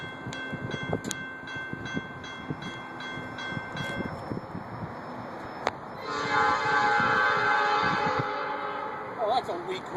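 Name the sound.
weak train horn from a passing train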